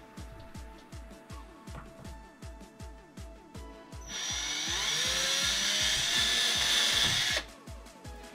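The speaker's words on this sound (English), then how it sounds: "I'm gonna use that to just send my drill through" Power drill boring holes through a wooden board for a fishing reel holder, a close, loud steady whine lasting about three seconds, preceded and followed by a rapid rhythmic tapping or knocking.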